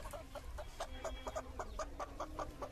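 A country chicken clucking close by in a village yard, a quick series of short rhythmic clucks repeating steadily over a quiet background.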